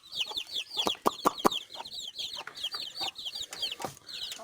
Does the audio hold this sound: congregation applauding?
no